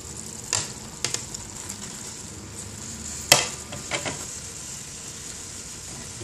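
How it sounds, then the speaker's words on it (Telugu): A spoon stirs cooked rice into tomato masala in a pan with a soft continuous sizzle, marked by a few sharp scrapes and clinks against the pan. "వేసేసి కలుపుకుంటాం."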